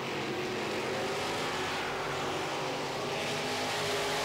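Midwest modified race cars roar around a dirt oval track in a dense, continuous engine drone, several cars running close together and loud throughout with no voices.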